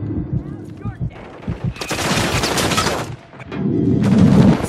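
Gunfire rattles through a Call of Duty Modern Warfare III match. A voice is heard first, then a loud sustained burst of rapid shots runs for over a second, and after a brief pause a second close, heavy volley follows.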